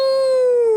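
A wolf howl from an Animorphs audiobook wolf-morph effect, one loud, steady, sustained tonal howl that slowly drops in pitch, heard alone.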